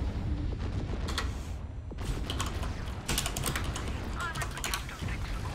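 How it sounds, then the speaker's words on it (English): Quick keyboard clicks from someone typing on a computer while playing the space combat game Fractured Space, with steady game sound underneath and a voice now and then. "God damn it, I'm typing here"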